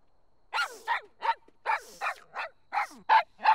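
A cartoon dog from an animated Dalton brothers episode lets out a quick series of about nine sharp, loud barks and yips in an irregular rhythm, with brief silences between them.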